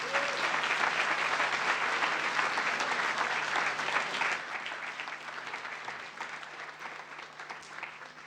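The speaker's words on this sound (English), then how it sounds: "Thank you for your applause for the people as they happened." Audience applause at the close of a school event: sustained, fairly dense clapping from a crowd that holds steady, then thins and softens slightly toward the end.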